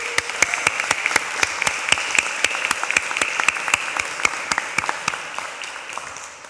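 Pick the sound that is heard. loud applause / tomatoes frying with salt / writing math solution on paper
loud applause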